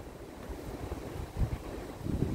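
Steady outdoor wind rushing and buffeting the microphone by the St. Lawrence River on a sunny day, with low rumbling gusts that swell briefly near the end.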